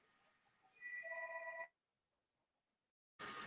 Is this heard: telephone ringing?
yes